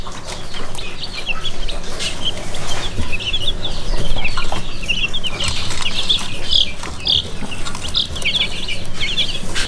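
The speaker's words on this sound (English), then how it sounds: "I really like the color of these chicks and of course of the breed." Wyandotte and Ancona bantam chicks cheep and peep in steady, busy bursts, close and fairly loud, with soft rustling and occasional wing flutters throughout; no one speaks.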